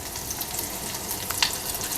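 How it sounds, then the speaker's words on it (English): Eggy flour batter dropped into hot frying oil while preparing chicken fingers, giving a soft, steady sizzle with faint crackles and a brief sharper pop near the middle, close up with no talking. "I take a little bit of this like eggy flour and I just drop it in there. And you see how it's just barely starting to sizzle?"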